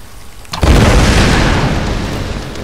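A loud explosion in the Tomb Raider video game, after a short quiet lead-in, bursts into a heavy booming roar that rumbles on and slowly fades across the rest of the moment.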